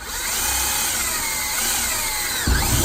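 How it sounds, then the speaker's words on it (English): A power drill fitted with a 17/64-inch bit bores bracket mounting holes for a window well cover safety lock, a steady whining motor drone that shifts pitch near the end as it bites in. "now you want to drill"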